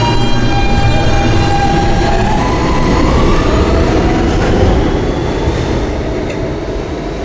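A New York subway D train, an R160B, rumbles loudly and steadily, with rising electric motor whine and wheel noise as it pulls away from 51st Street station, gradually easing off toward the end.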